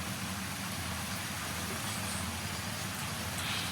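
Spring rain falls steadily on a Virginia rose garden as a constant hiss, with a low rumble beneath it and no talking.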